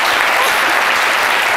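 Studio audience applause on a midday TV show, a steady wash of clapping from many hands filling the whole moment without pause.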